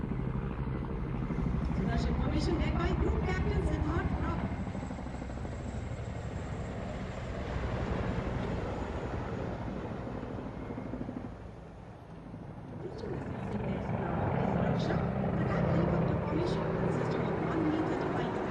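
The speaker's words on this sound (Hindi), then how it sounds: "रक्षक फॉर्मेशन, हेलीकॉप्टर्स, 1 मी-35 और 4 अपाचे हेलीकॉप्टर्स विक फॉर्मेशन में उड़ान भरते हुए" One Mi-35 and four Apache helicopters pass in a vic formation over a Republic Day parade in New Delhi, a loud continuous rotor and engine roar that dips midway and swells again, with crowd and commentary beneath.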